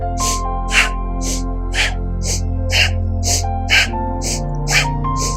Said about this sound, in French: Allez, inspire, expire.